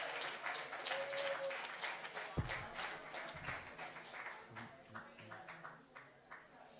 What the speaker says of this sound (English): A round of applause for Abu, please.